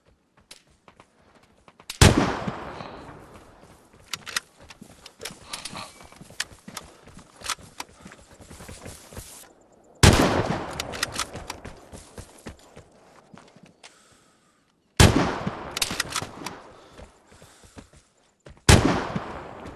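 Gunfire from a church in the game Vigor: several loud sharp shots spaced seconds apart, each followed by a long decaying echo, with quieter scattered clicks and footsteps between.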